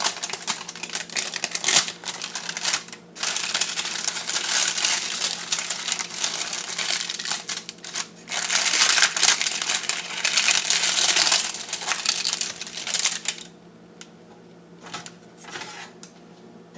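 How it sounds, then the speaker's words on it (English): Baking paper being pulled out from under a tray of baked keto brownies, heard as a long run of close crinkling and rustling in bursts, with short pauses and a quieter stretch of scattered crackles near the end. "I'm just going to pull this all paper out."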